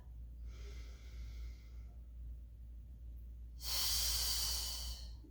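A Pilates mat class in a garage gym, with two audible breaths: a softer, airy exhale first and then a stronger, hissing exhale a couple of seconds later, set over a low background hum.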